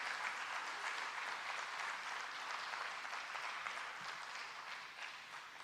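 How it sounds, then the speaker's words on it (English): A conference audience applauds keynote speaker Karl Friston, a steady, even wash of many hands clapping that carries on throughout, heard from some distance and fairly quiet. "Big round of applause for Karl Friston."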